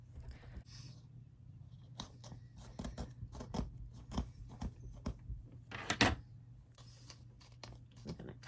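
Scissors snipping through an overlong, tangled gray wig, a close series of crisp, irregular cutting snips and crunches over a faint low hum, no talk.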